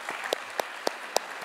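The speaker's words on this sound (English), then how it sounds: "Let's give a warm of applause to PISQ" Scattered hand claps at a Grade 10 completion ceremony, four distinct sharp claps spaced evenly over a low room murmur, sounding thin and sparse rather than full applause.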